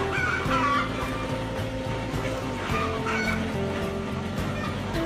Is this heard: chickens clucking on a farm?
yes